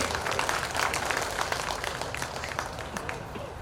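Audience applause at a Tamil debate forum, a continuous patter of many hands clapping, moderately loud and steady before easing slightly.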